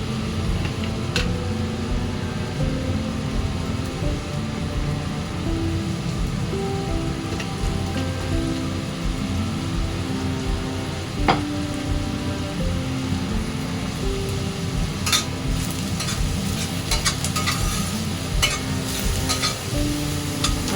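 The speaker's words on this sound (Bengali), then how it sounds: "এবার পেঁয়াজটা হালকা করে ভেজে নেব।" Salted onions fry lightly in a pan with a constant rain-like sizzle, punctuated by occasional spatula taps and stirring, steady and close throughout with no talking.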